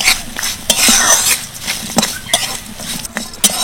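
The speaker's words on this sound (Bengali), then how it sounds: "হালকা নেড়ে চেড়ে ভেজে নিয়েছি ভালো করে সবকিছু" A metal spoon stirs and scrapes through peanuts, green chilies, dal and grated coconut in a pan for a coconut chutney, with irregular close clinks and knocks against the pan over a soft background hiss.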